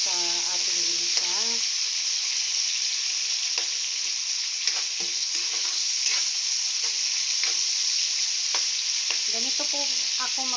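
Tomatoes sautéing in a pan for meatless Filipino pinakbet, a steady bright sizzle with occasional stirring scrapes, while a voice speaks briefly at the start and again at the end.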